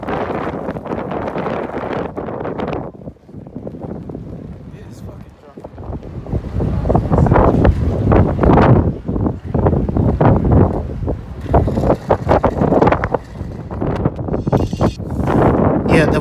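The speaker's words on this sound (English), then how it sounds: "as we got closer to the docks, the wind was so strong that you could even hear it on the video" Strong gusting wind buffets the microphone near the docks on a Liverpool waterfront, a loud continuous rumble that swells and drops, with brief lulls around the early seconds and heavier sustained buffeting later.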